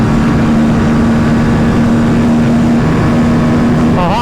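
An Aprilia RS 457 motorcycle engine screams at around 10,000 RPM during a ride, a loud, sustained high-revving drone with rushing wind noise throughout.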